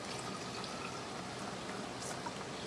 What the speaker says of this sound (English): I add a little bit of water.